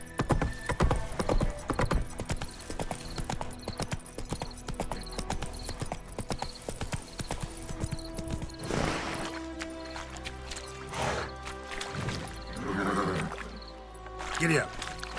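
Roach, the horse in The Witcher 3 on PS5, clip-clops along in steady galloping hoofbeats, loud and close, with occasional whinnies. Game music and a voice run over the hooves.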